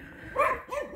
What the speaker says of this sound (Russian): Только псы со всех сторон лают.